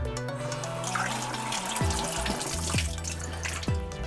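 Water from a tap runs steadily into a sink while a Dirtmag XS plumbing part is rinsed under it, with a few sharper splashes and knocks as the part is handled, close and continuous.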